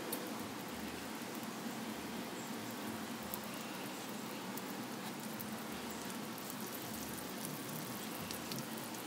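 Butter melting in a hot pan for a caramel apple cheesecake, giving a steady, dense sizzle and crackle that holds at an even level throughout, close and fairly soft, with no talking.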